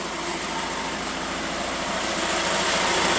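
A Volkswagen Caddy engine with a freshly welded muffler hums steadily and evenly throughout at moderate loudness, with a broad noisy rumble and no speech.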